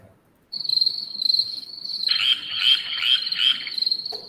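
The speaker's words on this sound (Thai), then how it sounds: "กบร้องแล้วกบร้องแล้ว" Evening chorus of frogs croaking close by in a Thai home during a rainy evening, a steady high shrill trill with dense, pulsing calls swelling after two seconds, continuing loudly without speech.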